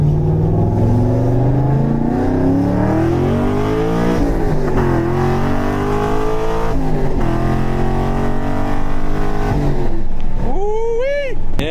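A Chevrolet Camaro Z28 race car with an exhaust leak runs loud and close, its engine revving and droning through rising and falling pitch, ending in a sharp rev at the end.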